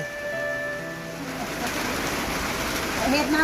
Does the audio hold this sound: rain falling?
yes